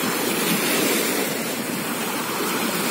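Sea waves roll onto the beach at Berdyansk Spit in Ukraine, a loud, continuous surf roar that fills the scene without pause and with no one talking.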